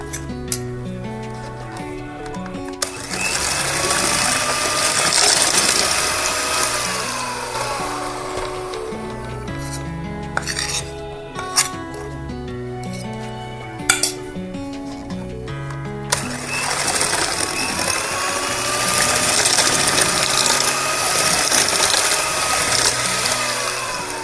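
An electric mixer beats eggless chocolate cake batter in a bowl, its motor whirring steadily with a shifting pitch and occasional knocks against the bowl, louder at the start and end.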